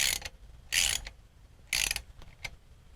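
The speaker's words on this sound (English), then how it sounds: "just put your little Torx screw back in. Not super tight" A ratchet tightens a Torx screw during a rear brake job on a Mercedes GLS, making several short, close clicking bursts separated by quiet pauses.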